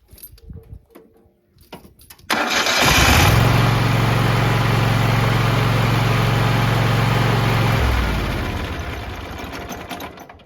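A ride-on lawn mower engine cranks and roars to life, running loud and steady for several seconds before winding down slightly, close up, with no talking.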